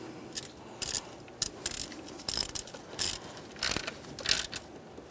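A ratchet loosens a front fuel injector bolt on a 1998-2011 Ford Ranger with the 2.3L four-cylinder. About ten quick, close clicking bursts follow in a steady rhythm, with no talking.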